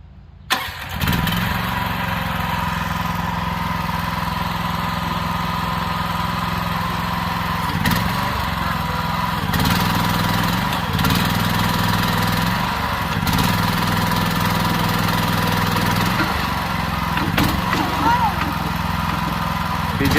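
An excavator's diesel engine cranks and catches, then settles into a steady, loud rumble that surges a few times as it runs, with voices speaking over it.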